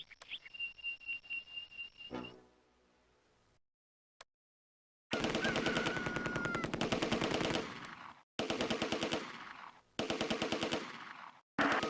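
A Vickers machine gun rattles in sustained rapid bursts in the Close Combat: A Bridge Too Far war game, set in Operation Market Garden, loud and close, with short gaps between volleys after an earlier quieter stretch of clicks and tones.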